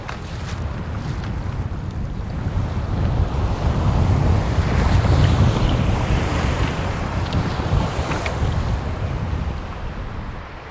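Strong wind buffets the microphone over choppy waves slapping and washing steadily along the shore of a large lake among remote islands, a loud, continuous roar with no talking.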